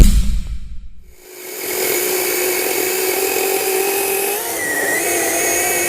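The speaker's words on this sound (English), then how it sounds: "I've never had a battery powered chainsaw that could do that." A Greenworks 20312 cordless battery chainsaw cutting wood, its motor briefly cutting out and then whirring back up to a loud, steady high-pitched drone up close, with no voices.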